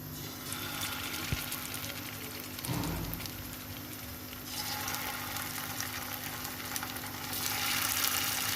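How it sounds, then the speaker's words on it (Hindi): Chicken pieces fry in oil in a pan with a steady, bright sizzle. A soft thud and a brief rush come partway through, and the hiss swells louder toward the end. "ये दूसरी तरफ मैंने ना पैन में ऑयल डाल ली है, और इसके अंदर आप मैं जो चिकन है इसको मैं फ्राई करूँगी"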